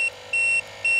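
The tire pressure monitoring display in an RV sounds a warning for a front tire at zero pressure, a series of short, clear electronic beeps repeating at regular intervals over a faint background hum.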